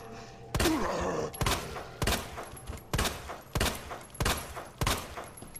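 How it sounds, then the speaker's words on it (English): Gunfire in the Resident Evil 2 demo: six or seven heavy, booming shots fired one after another at a steady, roughly one-second rhythm. The shots are close and punchy, with no talk over them. "That was a lot of gunshots."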